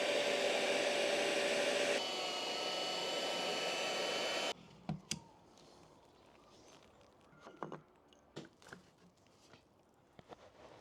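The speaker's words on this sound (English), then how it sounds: "the Hoover." Hoover vacuum cleaner running in a woodworking shop, a loud steady whine for about four seconds that then cuts off, followed by faint scattered knocks and handling noises.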